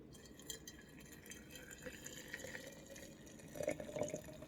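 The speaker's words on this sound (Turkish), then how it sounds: "tüm malzemeleri bu kavanozun içerisine boşalttıktan sonra üzerine 1 litre sıcak su ilave ediyorum" About a litre of hot water is poured into a jar of tea ingredients, giving a quiet, close, steady liquid trickle that swells slightly near the end with a few glassy drips.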